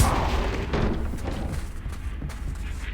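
A Confringo blasting curse explodes in the Hogwarts Legacy video game, a deep booming blast with rumbling low end that decays across a few seconds amid game ambience.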